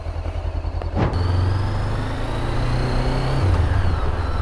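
Honda CBR500R motorcycle engine, a steady close idle rumble that rises sharply in a quick rev blip near the start and then settles into an even hum, with no speech.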